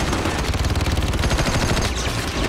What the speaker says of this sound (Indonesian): lalu memberondongnya dengan tembakan